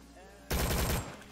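Rapid SMG gunfire in the Roblox shooter game Rolling Thunder, a loud dense burst of automatic fire lasting about half a second that rings out briefly before fading.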